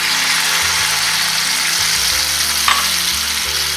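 Garlic cloves and piquillo peppers sizzle loudly in a pan as cider is poured in, giving a steady, close hiss of frying with a faint clink partway through.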